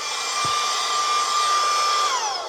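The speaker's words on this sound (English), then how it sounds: "You see it's sucking all this up. Food particles, dirt, dust, light gravel." A cordless handheld car vacuum cleaner runs close by with a steady, high motor whine as it sucks up dirt, dust and light gravel, then its pitch drops as it winds down at the end.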